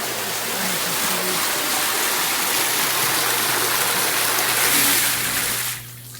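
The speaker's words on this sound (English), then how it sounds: "filling up the tub one last time" Hot spring water pouring steadily into a tub at the Carson hot springs resort, a loud, constant rushing roar with a low hum underneath, dropping off sharply at the very end.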